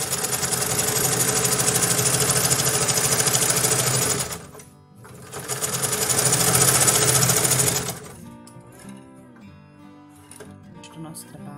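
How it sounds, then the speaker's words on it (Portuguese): Sewing machine running in long continuous bursts while stitching quilt seams on a checkered matelassé quilt, loud and steady with a short pause between runs, then quieter handling noises at the end. "Nós fizemos todas as costuras de um lado, agora nós vamos fazer as costuras do outro."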